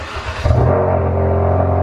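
A car engine cranks on a cold start and catches about halfway through, then settles into a loud, steady idle rumble close by.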